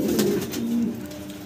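Caged pigeons coo close by in a short burst of low, rolling calls that fade after about a second.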